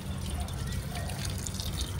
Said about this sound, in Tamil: தண்ணி எல்லாத்தையும் ஊத்திடுறேன்.